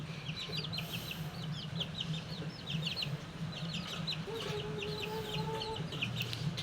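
Chickens on a farm cluck in short, repeated bursts, close and fairly loud, with a longer drawn-out bird call midway over a steady low background hum.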